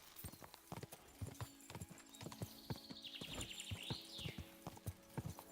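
A horse's hooves clip-clop rhythmically in the medieval game Kingdom Come Deliverance 2, sharp repeated strikes at a steady gallop pace, with a horse's whinny sweeping through the middle.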